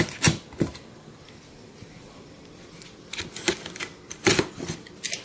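A knife cuts open the packaging of a FAST E6 HI-6RC circle track ignition box kit, making a few sharp scraping and tearing strokes at close range against a quiet background.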